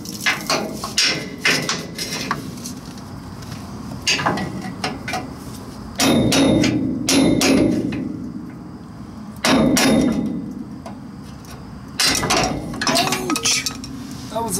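Sharp metallic strikes of a hammer driving nails while converting a large trailer, in bursts, several quick hits close by, with pauses between groups and some clinking and talking in between.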